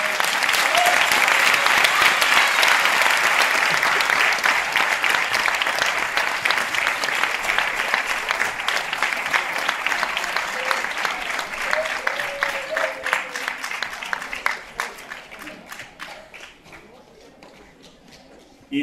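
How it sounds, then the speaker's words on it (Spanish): A strong, sustained round of audience applause at a Cascamorras 2018 festival ceremony. It starts loud and dense, then gradually fades over many seconds into scattered individual claps. "Un fuerte aplauso."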